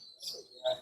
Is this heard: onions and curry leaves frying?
no